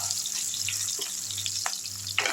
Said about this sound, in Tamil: இதுவும் நல்லா வதங்கட்டும் ஓரளவுக்கு நல்லா வதங்கிருச்சு